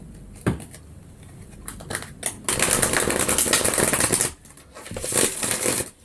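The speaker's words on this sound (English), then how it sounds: "Nice big shuffle." A deck of tarot cards is given a big shuffle up close, with a few sharp taps giving way to long, dense riffling bursts of papery flutter that pause briefly and then resume.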